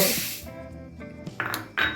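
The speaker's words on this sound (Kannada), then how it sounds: "ಈಗ ಮೊದಲಿಗೆ ಹೆಸರುಬೇಳೆ ಬೇಳೆ ಹಾಕ್ತೀವಿ ಒಂದು ಕಪ್" Moong dal is tipped into a pressure cooker, starting with a brief rushing pour of dry lentils and followed by light metallic clinks and taps of the pot and utensil.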